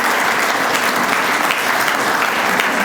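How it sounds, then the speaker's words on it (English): An audience gives the Christian Brothers a full, steady round of applause at an annual society breakfast, dense clapping filling a large room at even loudness from start to finish, with no one speaking over it. "please give them a round of applause because they deserve it"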